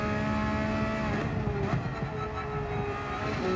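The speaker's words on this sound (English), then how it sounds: "I'm currently in the new Porsche" A Porsche 911 GT3 engine drones steadily in Gran Turismo 7 at Brands Hatch, a continuous mid-revving tone with shifting harmonics, loud and close with no talk.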